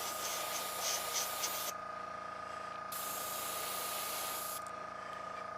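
Compressor-driven airbrush spraying paint onto an N scale model truck, a steady close hiss that cuts off and restarts in bursts over a constant low compressor hum.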